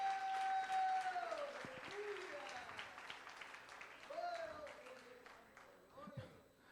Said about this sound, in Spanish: Dele la ofrenda de aplauso al Señor.